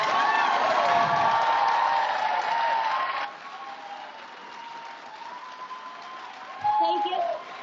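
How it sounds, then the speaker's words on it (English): Audience applause at a live election debate between candidates Hayes and Santos, a steady wash of clapping that drops off sharply partway through, leaving quieter room sound and a brief voice. "You may applaud."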